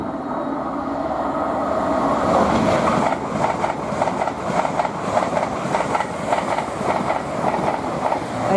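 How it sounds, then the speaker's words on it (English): An LNER Azuma express passes close by at Potters Bar on the East Coast Main Line, a loud sustained rumble with rhythmic clickety-clack of wheels over rail joints running throughout. "And now passing by, we've got an LNER Azuma heading from Aberdeen to London King's Cross."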